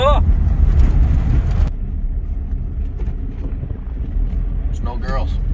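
A 1960s Ford Falcon cruising through the town of Pontypool, with a steady low engine rumble and wind buffeting the microphone from inside the car, plus brief faint chirps near the end.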